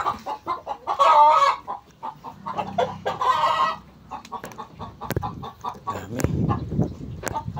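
Hens clucking and squawking close by in a farmyard, repeated bursts of clucks with scattered sharp calls, and a person speaks briefly among them.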